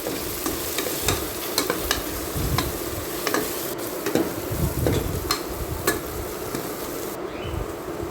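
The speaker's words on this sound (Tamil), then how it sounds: "கிளறி விட்டுக்கலாம்." Tomato and spice masala with garam masala and coriander powder sizzles steadily in a pan while a spoon stirs and scrapes it in irregular strokes, close and continuous with no talking.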